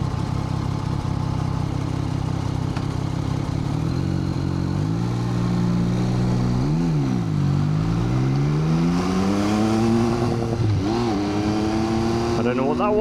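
A motorbike riding through traffic in Chiang Mai's Old City, its engine droning close and loud with rising and falling revs as it accelerates and eases off, other vehicles nearby.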